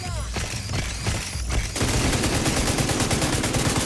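Rapid automatic gunfire from The Division 2 shooter game, with dense overlapping bursts that build into a loud, continuous barrage with no talk.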